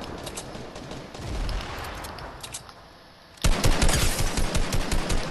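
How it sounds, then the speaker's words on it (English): Gunfire erupts in a Fortnite match, rapid bursts of shots crackling near and loud, easing briefly before a denser volley of repeated shots resumes with no talk over it. "I just missed a dead on deagle shot and he shoots me down"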